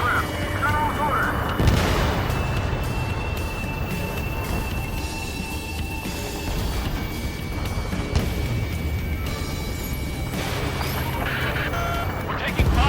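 Dense gunfire, booms and explosions roar from an aerial combat battle in the Ace Combat 7: Skies Unknown video game, a loud continuous barrage with heavy rumbling impacts and game voices talking over it.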